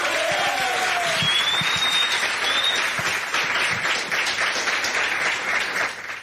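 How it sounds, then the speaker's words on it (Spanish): Audience applause at the opening of a studio television program, a steady wash of clapping sustained for about six seconds with a voice briefly audible over it at the start, fading slightly at the end. "Y un fuerte aplauso a los presentes."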